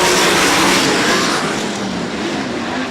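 Sprint cars roaring together at a green flag start of a dirt-track heat race, a loud, dense, sustained engine wall that fades slightly as the field pulls away.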